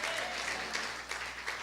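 Church congregation applauding during a Sunday morning service, a short, dense, even burst of clapping from many hands.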